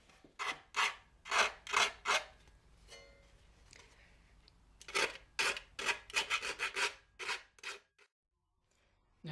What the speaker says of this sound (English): Now I'll just use some sandpaper and maybe a smaller file just to clean off some of these burrs.